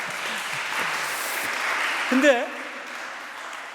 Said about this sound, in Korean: 청소년들 박수 한번 해줍시다